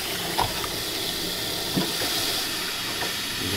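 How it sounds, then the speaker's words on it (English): Pink antifreeze runs from a travel trailer's hot water tap in a steady, close hiss of flowing liquid, with a few faint knocks and splutters from air in the lines. "you can see as we switch it over to the hot plumbing, we get the pink liquid coming through"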